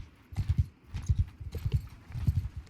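Horse hooves clip-clop in steady bursts of several quick strikes, loud and close, in Mount & Blade II: Bannerlord, with a faint whinny in the mix.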